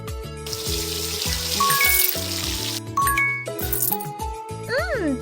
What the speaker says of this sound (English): Shower time!